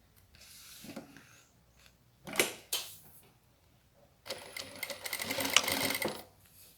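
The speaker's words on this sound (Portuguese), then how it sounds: "vou continuar costurando na marquinha aqui do debrum, na dobra do debrum" A sewing machine stitches plastic along bias binding in short close bursts: a quick run, two brief pulses, then a longer steady whirring stretch, with quiet gaps between.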